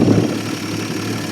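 The engine of a 1950 Studebaker Champion, running again after 40 years in a shed, idles close and loud with a steady, even low rumble throughout the brief clip.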